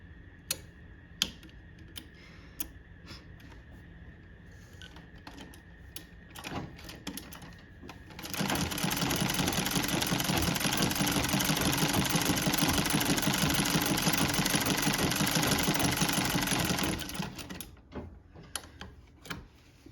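A Singer Model 15-30 sewing machine runs steadily through a zigzag stitch, a loud close whir lasting about nine seconds, with scattered clicks from the machine before and after.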